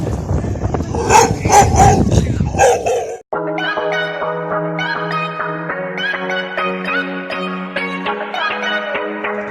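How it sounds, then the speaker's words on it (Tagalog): A dog in Sual, Pangasinan barks in rapid, agitated bursts close by, then a sustained high whining howl continues over background noise. "Yung aso, nag-iinit. Galit."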